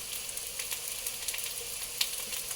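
Hot dogs sizzling in a pan as they are stirred, a steady close hiss of frying with faint scraping clicks and no voices.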